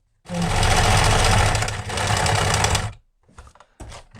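A sewing machine stitches a waxed fabric tool roll in a loud, steady whirring run of about two and a half seconds, followed by a few quieter clicks and handling sounds as it stops.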